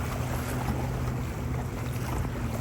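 A Blackfin boat passes along Whiskey Creek in Fort Lauderdale, giving a steady low engine rumble and water wash under wind noise.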